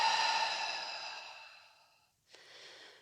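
A long, soft exhale during a yoga breathing exercise, fading out gradually, then a brief second breath after a short pause, close and quiet.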